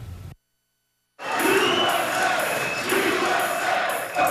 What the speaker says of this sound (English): Not a huge crowd here,